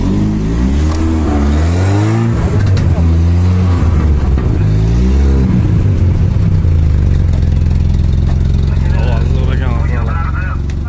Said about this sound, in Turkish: Agatda gaz beraveringchi.